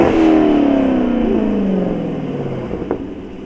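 A Dodge Scat Pack with an aftermarket catback exhaust downshifts nearby, its loud, raspy engine note sweeping down in pitch with a blip of revs in between, then fading.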